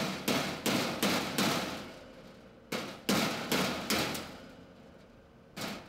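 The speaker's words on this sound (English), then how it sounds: "use the flathead screwdriver and hammer to knock the head off the rivet" A hammer strikes a flathead screwdriver to knock the head off a rivet on a toolbox, giving a series of sharp metallic blows in two quick bursts of four, then a single final hit, each ringing briefly.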